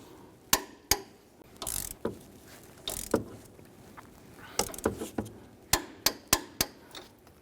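A torque wrench tightening control arm nuts on a 2007-2014 Cadillac Escalade, producing close, crisp ratcheting clicks in short bursts and spaced single clicks, with quiet handling noises between and no talking.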